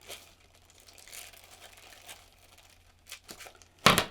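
Plastic bread bag being cut and crinkled: faint rustles and snips through quiet stretches, ending in a sharp, loud burst of crackling plastic near the close, with no speech.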